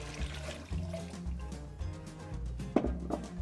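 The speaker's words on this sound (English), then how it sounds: "then we're going to add 4 cups of water" About four cups of water pour into a Durotherm hold-and-serve pot over sautéed fennel, a short run of splashing and gurgling close by.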